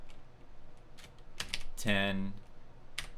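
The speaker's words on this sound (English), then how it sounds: "let's start typing in some CQG symbols." Computer keyboard typing while entering trading symbols into a quote sheet, soft scattered key clicks close by, with a person speaking over part of it.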